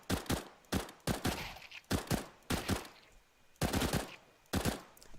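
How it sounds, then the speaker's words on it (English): Short bursts of rifle fire in Counter-Strike: Global Offensive, six or seven sharp clusters of a few rapid shots each, separated by brief pauses, loud and close with no talking. "You can just shoot a couple, then you wait, burst firing."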